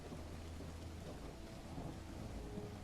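Heavy rain and rolling thunder in a video game set near R'lyeh, a steady dense downpour with low rumbling throughout, fairly faint and unbroken with no talking.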